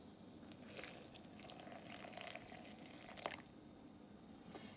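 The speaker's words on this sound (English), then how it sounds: "And now I'm going to add some water." Water trickles and drips softly into unbleached all-purpose white flour for a starter, a faint, steady pour heard alone at close range.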